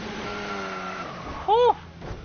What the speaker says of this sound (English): Car just spun then there